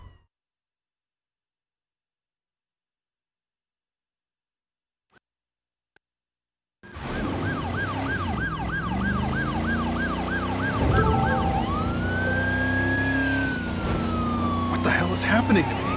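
An ambulance siren from Driver San Francisco wails loudly and close, starting abruptly after several seconds of near silence, its rising and falling tone cycling over engine noise while a voice speaks at the end.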